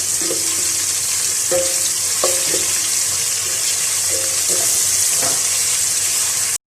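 Ginger garlic paste frying in a pan for balti gosht, a steady loud sizzle running throughout with a few brief clinks and stirring scrapes, ending abruptly.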